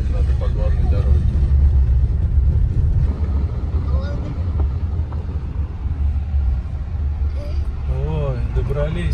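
A car travels along a main road, a steady low rumble of engine and tyres heard from inside the cabin, with people talking over it throughout.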